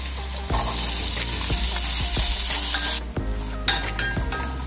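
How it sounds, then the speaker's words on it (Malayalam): Sliced onions with curry leaves and ginger sizzle steadily in hot oil for a Kottayam-style kappa biriyani, the frying hiss loud and close, broken by several sharp scrapes and clinks of a spoon stirring the pan. "കരിവേപ്പിലയും അതും ചെറുതായിട്ട് ചൂടായി വരുമ്പോൾ തന്നെ അതിലേക്ക് നമ്മൾ അരിഞ്ഞു വെച്ചിരിക്കുന്ന സവാളയും കൂടി ആഡ് ചെയ്ത് കൊടുക്കാം."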